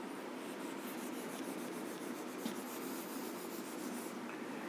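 Steady scratching and rubbing of a pen or marker writing during a physics lesson, a continuous close, dry texture with faint rhythmic strokes throughout and no voices.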